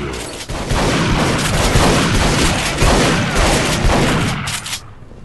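Rapid bursts of gunfire crackle in the first-person shooter Duke Nukem Forever, with loud booming shots stacking into an almost continuous barrage that fades out in the last half-second.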